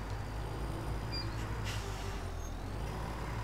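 A truck in Farming Simulator 2017 idles with a steady, low engine rumble, and a short airy hiss of its brakes rises briefly midway, with no voices.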